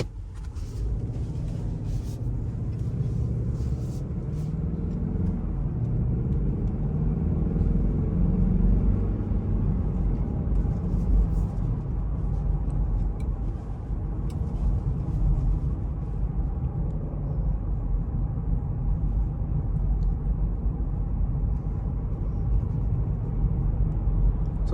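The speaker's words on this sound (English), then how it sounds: "See how you guys can kind of hear the road noise or whatnot on a coil suspension" Steady low road rumble and tire noise inside a 2022 Land Rover Defender 90 P300 on coil suspension, a continuous loud drone with faint bumps and rattles throughout, no talking.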